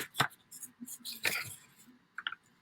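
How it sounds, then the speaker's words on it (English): Paper is folded close by in a few short, quiet crinkles and creasing scrapes, with small pauses between them and a faint rustle near the end. "So let's fold it."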